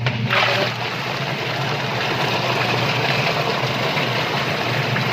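A belt-driven motor running steadily and loudly up close, a constant low hum and rumble with a watery wash over it and no speech.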